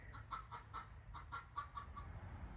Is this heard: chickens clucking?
yes